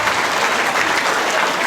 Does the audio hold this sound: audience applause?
yes